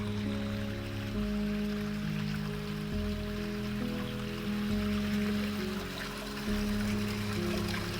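Water runs steadily at an ancient Roman aqueduct in Rome, a constant, fairly close rushing hiss that carries on without a break, with sustained musical tones layered over it.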